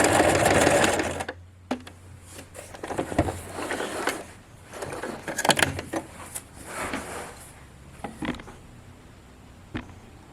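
A sewing machine stitches along a pants waistband in a loud, steady run lasting about a second, then finishes with a back stitch. Scattered clicks, fabric handling and short mechanical taps follow, with no talking.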